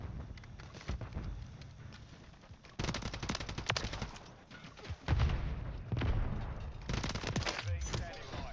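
Gunfire in a military shooter video game: bursts of rapid automatic shots and single cracks come in uneven clusters, loud and close, with game voices calling out between them.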